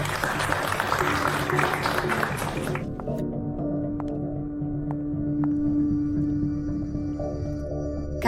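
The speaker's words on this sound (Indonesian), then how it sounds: "Mari kita sambut kedua mempelai hari ini dengan tepuk tangan." Wedding guests applaud to welcome the bride and groom, a full burst of clapping for nearly three seconds before it cuts off and soft music carries on alone.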